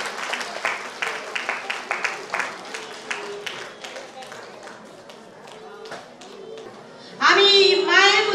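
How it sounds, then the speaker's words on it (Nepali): A church congregation at a large Christian gathering claps in thanks to the Lord, brisk irregular applause that fades out over several seconds, followed by a loud burst of speech at the end. "प्रभुलाई हामी तालीबाट धन्यवाद दिनेछौँ।"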